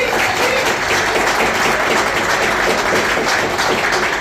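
A crowd claps steadily and densely throughout, a loud, even wash of applause for five KPT members with no pauses.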